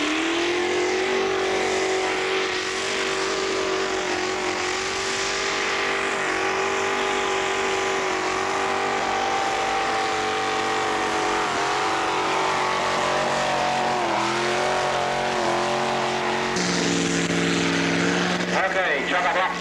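A tractor engine at the 1986 Colbinabbin tractor pull drones loudly and steadily, shifting pitch as it labors and revs, with a change in tone near the end and a commentator talking over it throughout.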